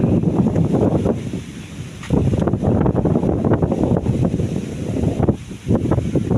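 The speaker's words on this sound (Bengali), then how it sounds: "আর দেখেন কি পরিমাণ বাতাস চালাইছে" Strong wind buffets the microphone in loud, rumbling gusts that rise and fall continuously beside rice fields in cold, rainy weather, with no voices heard.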